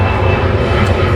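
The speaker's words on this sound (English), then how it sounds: "Yeah, thanks airplane." A fixed-wing airplane flies overhead, producing a loud, steady, broadband roar that fills the room continuously without pause, heard indoors at a desk.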